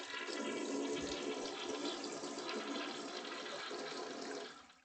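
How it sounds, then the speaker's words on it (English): A toilet flushing as a sound effect: a loud, steady rush of water sustained for over four seconds, then quickly tapering off at the end, heard alone with no voices. "That was what toilet flushing by Sound FX."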